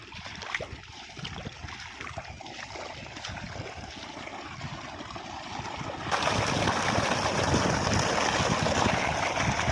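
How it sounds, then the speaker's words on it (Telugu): Irrigation water flows into a vegetable farm field in a continuous soft rush and trickle, which turns louder and fuller partway through. "మనకు వాటర్ ఇక్కడ నుంచి ఇట్లా వస్తాయి."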